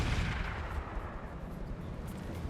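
Turrets firing in the Roguetech mech game, a dense continuous roar of rumbling gunfire and artillery blasts with no clear gaps.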